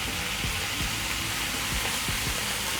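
Tomatoes hit a hot frying pan while cooking breakfast, giving a loud, steady sizzle and fry that runs unbroken throughout, with faint stirring scrapes underneath.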